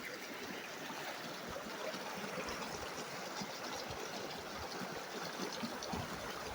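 Steady rushing water of Spread Creek in Grand Teton, a thick, continuous flow heard alone at an even level throughout.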